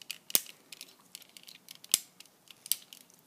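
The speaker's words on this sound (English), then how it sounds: "You can hear the clicking, the clicks of the ratcheting joints." Joints of a plastic Exo-Squad J.T. Marsh toy with Aerial Attack E-Frame click sharply as they ratchet, a few distinct close snaps spaced apart with softer ticks between them.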